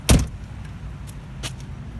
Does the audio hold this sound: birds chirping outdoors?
no